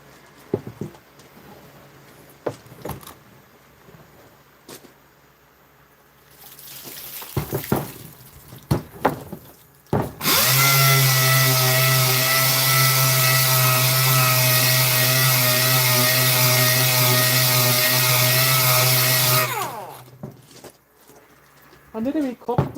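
A 2-inch sander works 304 stainless steel bars, running as a loud, steady high-pitched whine for about nine seconds after quieter handling clatter, then cutting off.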